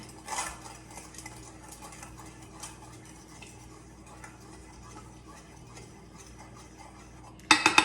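Beef and broccoli being mixed with spices in a pan, quiet scraping and light clinks of a utensil against the pan, ending in a burst of louder rapid metal clatter.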